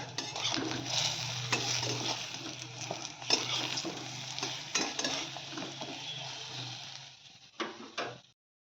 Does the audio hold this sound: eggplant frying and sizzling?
yes